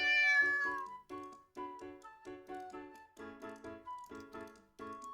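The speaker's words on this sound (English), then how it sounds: "I hear a little meow from below me." A cat meows repeatedly from close by, high tonal mews in quick bursts, each a short rising-falling cry, with brief pauses between them and no talk.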